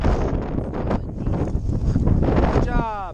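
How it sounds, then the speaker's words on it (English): Strong wind buffets the microphone at a mountain summit at Red Rocks, a loud, continuous roaring rumble throughout, with a brief voice near the end. "It's very windy, but we're at the top."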